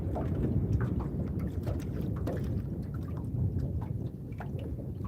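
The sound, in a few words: wind blowing around a fishing boat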